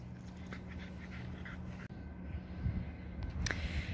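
Dog panting steadily and close on an outdoor rural property, with rhythmic quick breaths continuing throughout and no talk.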